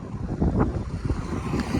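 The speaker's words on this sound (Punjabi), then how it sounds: "ਇੱਥੇ ਬਹੁਤ ਤੇਜ਼ ਹਵਾ ਚੱਲਦੀ ਹੈ" Strong wind gusts buffet the microphone beside the Sutlej river near the Indo-Pak border, a close rumbling roar that swells and churns unevenly throughout.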